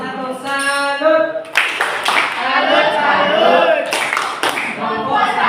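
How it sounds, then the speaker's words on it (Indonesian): Classroom audience clapping for the first student group at a university teacher-training session, a dense burst of applause that swells and carries on steadily, mixed with voices and cheering over it. "beri tepuk salut untuk kelompok 1"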